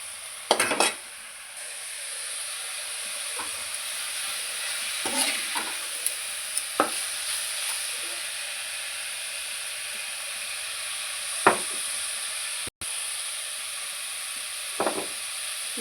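Food frying and sizzling in a pan during Indian home cooking, a steady hiss of evaporating moisture punctuated by occasional stirring scrapes and clinks of utensils on the pan, close and with no talking.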